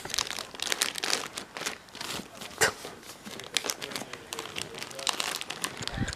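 A child rummages through plastic bags, producing close, irregular bursts of crinkling and crumpling with sharp rustles and tearing-like scrunches, while voices talk intermittently.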